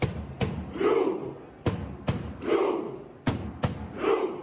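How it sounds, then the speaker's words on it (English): Norway football fans perform the Viking clap before kickoff at a World Cup match against Iraq, a big stadium crowd booming out loud, evenly spaced single claps with a roaring chant swelling between them. "Norway fans celebrated their long-awaited return to the World Cup with the traditional Viking clap before kickoff"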